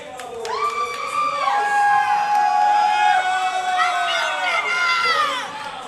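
Crowd cheering at the 2023 Invictus Boston Invitational CrossFit competition during a bike event: loud, sustained whoops and shouts that swell for several seconds, then ease off near the end.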